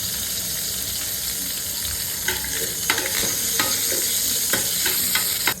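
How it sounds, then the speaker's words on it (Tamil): Whole spices—cinnamon, cloves, cardamom and bay leaf—spluttering and sizzling in hot oil for a Madurai-style mutton curry, a steady bright fry with sharp pops and crackles scattered throughout, close and alone. "பட்டை, கிராம்பு, ஏலக்காய், பிரிஞ்சி இலை எல்லாம் போட்டு பொரிஞ்சு வச்சு"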